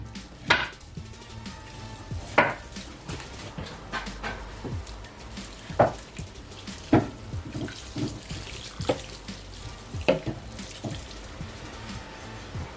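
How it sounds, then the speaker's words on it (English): Water pours into a large pot of Nigerian party jollof rice, a running splashy flow with occasional sharper knocks and clanks of cookware in a kitchen. "So I'm going to add a little bit of water."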